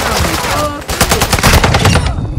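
Loud rapid bursts of battle rifle fire from the TAQ-V in a Call of Duty game, close and punchy, with quick shot clusters that tail off near the end.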